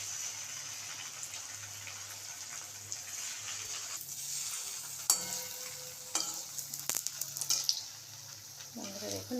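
Chhana koftas sizzle steadily in hot oil, a continuous broad frying hiss with occasional stirring clinks and scrapes toward the end; no talking.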